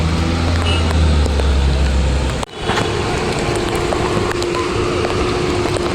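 A truck pushes through a flooded road in extreme heavy rain in Mumbai, a loud continuous roar of engine, rain and splashing water that briefly drops out, then resumes with a steady hum.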